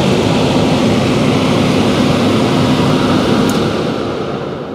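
A newly replaced HVAC indoor blower fan running after being switched to cooling, a loud, steady rushing roar of air close by that eases slightly toward the end.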